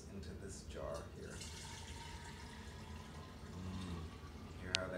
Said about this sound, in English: I'm going to pour the pure grapefruit juice into this jar here